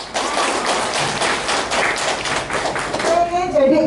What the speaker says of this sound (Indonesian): Sukses, tepuk tangan untuk Rima.